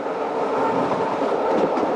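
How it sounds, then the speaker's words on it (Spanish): Train wheels run over jointed rails with a continuous, loud rolling rumble and a rhythmic clickety-clack that carries straight through without pause. "El paso de las ruedas por esas separaciones daba al tren ese traqueteo tan suyo"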